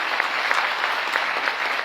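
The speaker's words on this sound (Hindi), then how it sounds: "इसके लिए जोरदार ताली होनी चाहिए।" Seminar audience applauding, dense steady clapping from a crowd throughout, fairly loud and close with no speech over it.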